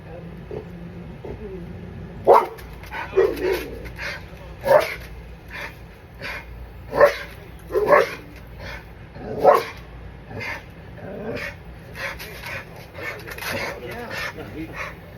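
A dog barks nearby in irregular single woofs and short bursts, loud and close, with people talking around it.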